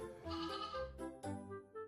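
Animated mother goat and kid bleating in a cartoon farm tale, several close wavering calls overlapping across two seconds with strong pitched cries and brief pauses.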